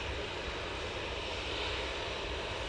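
A KLM airliner's engines roar steadily at Manchester, a dense, loud wash of jet noise held close and constant, with no speech.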